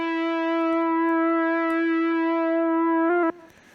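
An Ableton stock synth preset holds one sustained, bright, buzzy tone with its low and high end filtered away, then moves briefly near the end and cuts off sharply, leaving faint noise.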